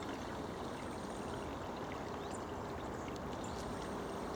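A river flows steadily beside a countryside walking path, its continuous close rush of water holding at an even level throughout, with no voices.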